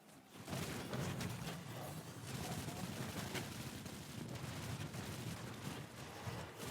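Rapid weapon fire in the video game Destiny 2 Witch Queen, a dense continuous rattle of shots with thuds layered under it, steady and loud throughout.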